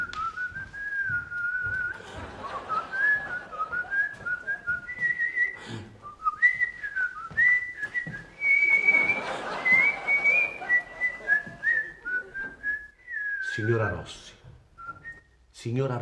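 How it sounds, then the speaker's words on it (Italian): A person whistles a wandering, lilting tune in long phrases, with brief bits of talk and background noise in between. "Io stavo solo fischiando."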